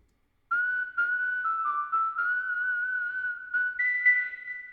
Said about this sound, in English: let's have it fall off, because that often happens when you're whistling a note